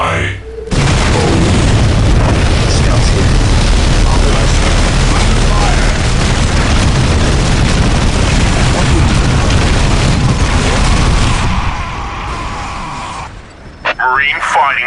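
Whirlwind artillery shells from the Space Marines pound the ground in a Dawn of War Soulstorm battle against Orks, a dense, continuous roar of booming explosions that stays loud for most of the stretch before tapering off.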